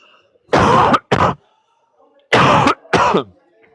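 Two pairs of harsh, loud coughs close by from chili oil going down the wrong pipe, each pair a strong cough followed quickly by a shorter one, with a pause between pairs.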